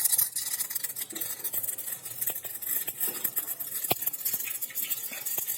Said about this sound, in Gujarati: તેલ આવી ગયું છે, થોડીક રાઈ ઉમેરી દઈએ.